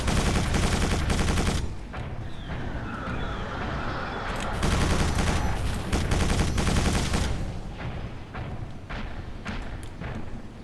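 Rapid bursts of Quake 4 video game gunfire, dense volleys of shots with heavy thuds, continuing loud and close throughout with brief pauses.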